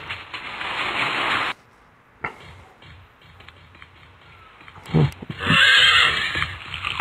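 Horse in a video game whinnying loudly twice, a long bright neigh followed after a pause by another, with faint hoof clopping between them.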